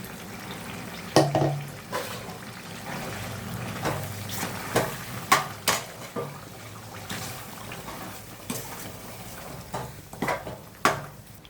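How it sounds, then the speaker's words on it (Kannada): Chicken frying with ground masala in a pan, soft sizzling under a series of repeated stirring scrapes and spoon knocks, close and fairly quiet. "ಈಗ ರುಬ್ಬಿರೋ ಮಸಾಲೆ ಹಾಕ್ತೀನಿ."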